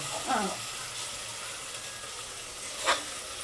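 Mutton pieces added to a pan of fried ginger hiss with a steady broadband sizzle, broken by a couple of short utensil scrapes, with no talk.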